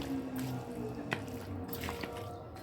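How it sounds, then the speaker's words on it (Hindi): Chicken is mixed by hand in a papaya-paste marinade, giving wet squelching and dripping sounds with irregular soft squishes and a few sharper clicks, close up and moderately quiet over a low steady background hum. "तो इसे अच्छे से मिक्स कर लें"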